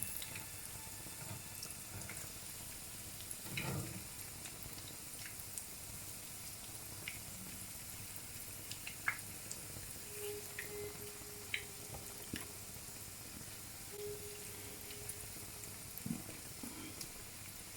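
Egg kebabs fry gently on a low flame, a steady soft hiss and sizzle with faint pops and ticks scattered throughout, quiet and continuous with no talk.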